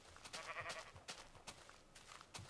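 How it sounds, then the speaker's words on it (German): Sheep in the video game Minecraft bleat faintly in a low-level mix of repeated short game sounds, with a few soft bleats spread across the stretch. "Das ist ja nur Schafe."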